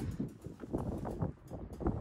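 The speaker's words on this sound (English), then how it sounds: "Yeah, I know it's windy out here." Gusty wind buffets the microphone outdoors, producing a steady low rumble that swells and dips in uneven bursts, with no other clear sounds.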